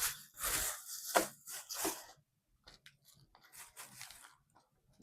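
A plastic bag for storing garden seeds is crinkled and handled up close in a few loud rustling bursts, then quieter scattered crackles and rustles. No voices.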